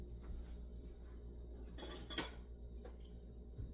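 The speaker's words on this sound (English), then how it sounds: "But let me get the spoon." Quiet clinks of a spoon being picked up from among metal cutlery while making bourbon baked beans, with a cluster of sharp rattles near the middle over a low background hum.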